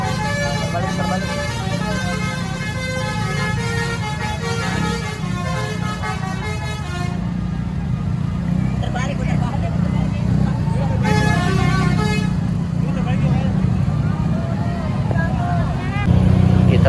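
Indonesian bus telolet horns play melodic tooting tunes at Kota Tua Jakarta on New Year's Eve, continuous and loud over a busy crowd and engine rumble, with people talking throughout.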